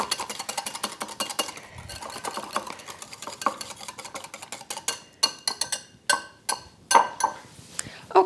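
A spoon stirs plain Greek yogurt into Russian dressing in a bowl, making steady scraping swirls and then sharper, louder clinks against the side in a quickening rhythm, heard close up.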